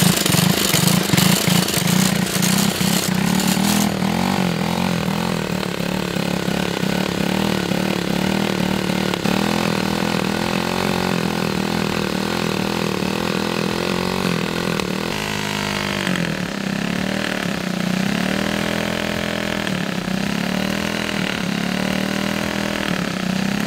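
A cheap quad ATV engine idles loudly and close by, its uneven putter rising and dipping in pitch with occasional revs over roughly twenty seconds.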